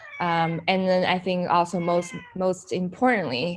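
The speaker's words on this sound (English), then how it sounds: "sorry about my cat" A house cat meows repeatedly in long, drawn-out cries, loud and close, while a person keeps talking over the calls.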